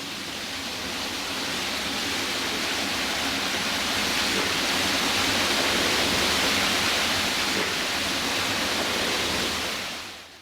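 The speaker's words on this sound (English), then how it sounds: "The large water wheel provides the motive power to drive the rest of the cogs in the mill." Water rushes and splashes continuously at a large water wheel driving the cogs of a renovated corn mill, a dense, steady roar heard up close.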